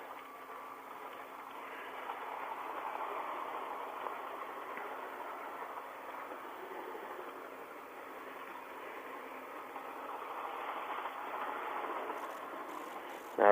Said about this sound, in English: I really love how this train can go all the way around.